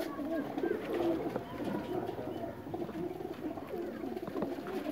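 Sialkoti breed pigeon cooing, low throaty repeated coos close by, mixed with bird rustling and a busy background.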